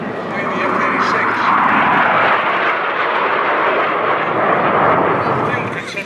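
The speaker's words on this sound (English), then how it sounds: "Here's a nice look now heading from east to west. Again, the F-86 F Sabre" North American F-86F Sabre jet passing overhead at an airshow in Chino, a broad, steady roaring whoosh that swells and holds at a moderate distance, with a commentator talking over it.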